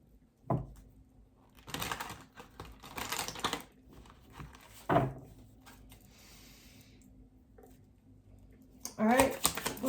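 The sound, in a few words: shuffling tarot cards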